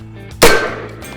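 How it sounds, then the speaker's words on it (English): A Can Cannon launcher fires a tennis ball with a blank round, a single sharp, loud bang that decays quickly, with a quieter background before and after. "Hey, let's shoot a tennis ball."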